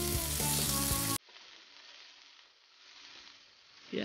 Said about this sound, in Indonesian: Pertama-tama kita tumis bawang bombay dan bawang putih. Setelah harum, kita masukkan daging cincang.